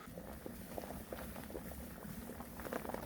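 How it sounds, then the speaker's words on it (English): Wort at a vigorous rolling boil in a Klarstein Brewster homebrew kettle, a steady bubbling, popping churn close by, continuous and fairly quiet with no talking. "It's a good vigorous boil that is now. It's leaping out."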